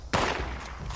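Gunfire in the Fallout 76 video game: a sharp burst of shots crackles at the start, then a dense rattling tail of rapid fire continues for about a second, fairly loud and close.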